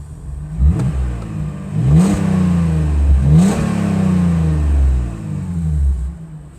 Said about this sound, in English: so that's the engine running